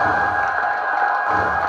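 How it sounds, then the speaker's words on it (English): Audience at a foundation's stakeholder unveiling event in Lagos applauds steadily as a guest enters, a dense continuous wash of clapping with some crowd cheering throughout. "Keep clapping as he steps in."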